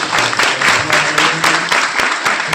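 A church congregation claps hands together in praise during a Hindi-language worship service, loud, dense and continuous applause with a few sharper accented claps, close and filling the room.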